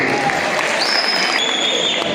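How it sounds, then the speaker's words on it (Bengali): Applause at a pigeon quiz event for a pigeon owner: a short burst of clapping from a small audience, steady and fairly loud, with faint electronic tones over it. "ভাইয়ের জন্য একটি করতালি।"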